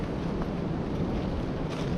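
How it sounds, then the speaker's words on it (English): Strong wind on a winter hiking trail in the Smokies makes a continuous low, rumbling buffet against the microphone for about two seconds, with no voices. "it is windy,"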